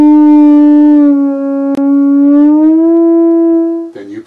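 A theremin plays a clear, pure-toned sequence of sliding notes that glide slowly up and down without breaks, loud and close, ending with a brief clatter.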